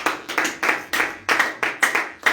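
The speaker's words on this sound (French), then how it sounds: "Est-ce qu'on peut acclamer pour la gloire?" Rhythmic clapping from a church congregation, about ten sharp even claps in a steady beat, close and loud with no voices.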